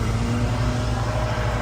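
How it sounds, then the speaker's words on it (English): A lawnmower runs nearby with a steady, continuous low engine drone and no break in level across the stretch, with no voices over it. "Sorry about the lawnmower"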